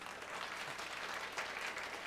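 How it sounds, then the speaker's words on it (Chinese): A church congregation applauds in welcome, a dense wash of clapping hands heard at a modest level across the room. "我们拍手来欢迎"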